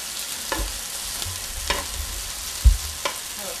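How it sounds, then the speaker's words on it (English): A steak fries on a hot pan or grill beside potatoes for a Portuguese breakfast, giving a steady close sizzle with a few light clinks and scrapes of stirring. "Steak cooks up pretty fast."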